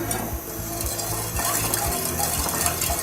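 Sugar syrup with cardamom pods is stirred in a pan on the stove. A spoon scrapes and clinks against the metal in a steady rhythm over a continuous bubbling sizzle. The sound is loud and close, with no voices.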